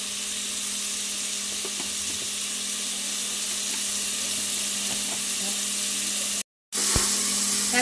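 Tomatoes salted with rock salt sauté in a pan, giving a steady close sizzle and hiss with a few light stirring clicks. The sound breaks off briefly near the end, then comes back.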